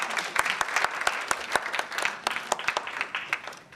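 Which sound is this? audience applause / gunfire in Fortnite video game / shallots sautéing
audience applause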